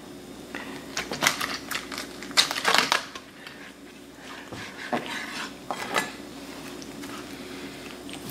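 A knife crunches and scrapes through a hot brandy-glazed Cornish hen on a plate, with close clinks and crisp cracking bursts against dishes and cutlery.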